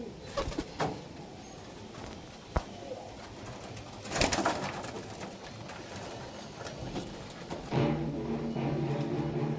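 Closed-tail breeding pigeons, including a Sialkoti male, coo in a loft in Nabadwip. Soft, irregular coos mix with scattered wing flaps and clattering bumps, ending in a longer, steady, throaty coo.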